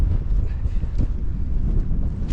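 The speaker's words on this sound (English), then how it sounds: "it's very windy, so I don't know how this camera's managing" Strong wind buffets the camera microphone on a hike overlooking a valley in the Scottish Borders, a steady low rumbling roar throughout.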